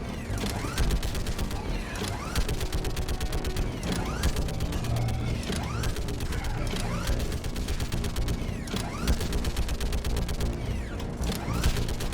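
Mounted gun in Mass Effect 3 firing in a fast, steady mechanical stream of clattering shots, loud and continuous for many seconds, with faint sweeping whines layered over the rapid rattle.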